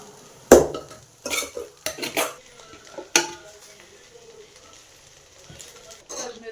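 Rice and masala are tossed together in a pan, with a few sharp scrapes and knocks of a spoon against metal between quieter gaps, close by, over faint background sizzle.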